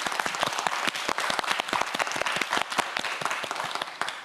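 A studio audience at a televised science quiz show applauds a student contestant with brisk, crisp clapping that holds steady throughout, each hand-clap standing out sharply within the close, lively burst.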